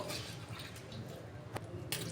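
Water running from a tap over onions being rinsed for pumpkin raita in a home kitchen, a steady faint splashing wash with a couple of brief louder splashes near the end.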